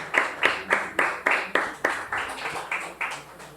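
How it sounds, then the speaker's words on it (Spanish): Church congregation applauding the Lord, with a run of about a dozen sharp, evenly paced clap bursts that fade slightly toward the end. "Vamos a dar un aplauso al Señor."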